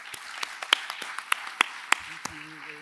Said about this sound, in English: Let's give Roger another round of applause